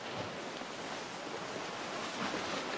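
Steady roar of wind at a seaside cliff diving spot, dense and unbroken with a surf-like rush filling the whole clip, no voices.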